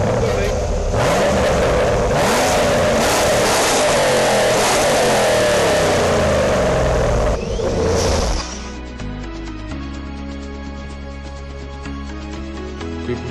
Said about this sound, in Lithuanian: Variklis tai ledinis. 210 kW. Tuoj pamatysi,